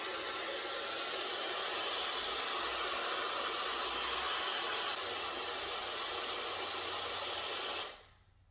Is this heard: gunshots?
no